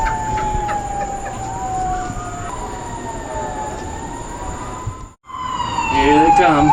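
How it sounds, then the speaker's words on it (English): Several fire truck sirens wail with rising and falling tones, approaching from a distance and overlapping, then growing louder and more tangled near the end after a brief dropout. "I'm hearing fire trucks. Lots of fire trucks."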